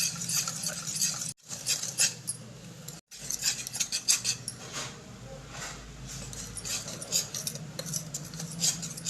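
Rava besan dhokla batter mixed with Eno and water: continuous close scraping and patting of a spoon through the thick batter in a bowl, steady and fairly quiet, broken by two short gaps.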